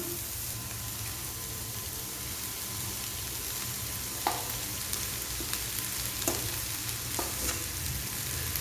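Rice and vegetables stir-fried on high flame for egg fried rice, a steady loud sizzle throughout with occasional sharp scrapes of a spatula against the pan.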